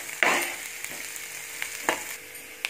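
Onions frying in a pan while a chicken curry is cooked, a soft steady sizzle with a few sharp scrapes of a spoon stirring, close and moderately quiet.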